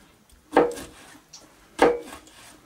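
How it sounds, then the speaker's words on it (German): A knife slices gherkins into long strips on a wooden board, giving two crisp, close cutting thuds about a second apart in an otherwise quiet kitchen. "Die schneide ich mir jetzt auch erstmal in längliche Streifen."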